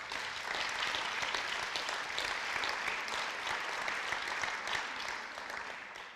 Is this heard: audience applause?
yes